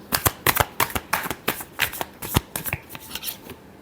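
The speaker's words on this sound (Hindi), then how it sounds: "last shuffle" A deck of tarot cards being shuffled by hand, a quick irregular run of crisp riffling slaps and flicks, close up and alone.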